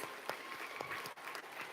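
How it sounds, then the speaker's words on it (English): A room of people at a live-streamed fur ball gala briefly applauds the volunteer rescuers, a short steady burst of clapping at moderate distance, fairly quiet overall. "if we can give them a round of applause"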